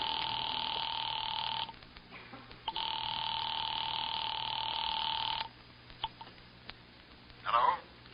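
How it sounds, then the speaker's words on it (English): A telephone being dialed in a 1950s radio drama: a faint, steady electronic tone runs behind the scene, broken by short gaps and clicks, with a brief rasping sound near the end. "had just dialed the telephone number"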